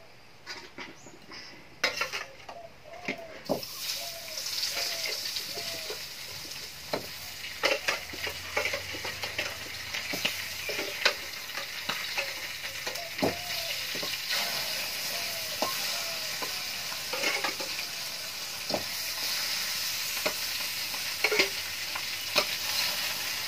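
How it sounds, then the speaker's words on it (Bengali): Fish sizzles steadily in hot oil in a village kitchen, with repeated stirring and scraping clicks against the pan over the constant frying hiss. "দেখো মাছটা কিন্তু আমি আগে ভেজে নেবো।"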